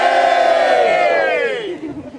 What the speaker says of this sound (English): Right, you want another cheer?